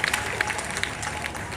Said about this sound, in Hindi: मेरे लिए भी आप तालियां बजाइएगा।